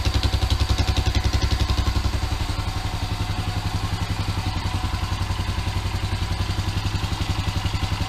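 A Rancher 350 ATV engine with a Benz silencer and an exhaust leak idles steadily after an overhaul, a loud, even low pulsing thud running continuously without pause.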